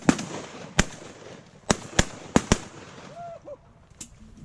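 Shotgun blasts during a duck hunt ring out in a quick series of sharp, loud cracks, five or six shots spaced unevenly over a few seconds, with a duck call quacking faintly near the end and outdoor ambience between.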